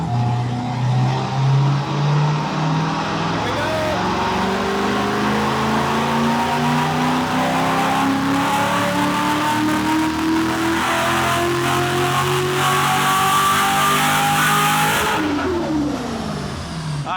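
An LS-swapped widebody Porsche 911 engine revs at full throttle, a loud, continuous roar climbing steadily in pitch for about fifteen seconds before abruptly cutting off.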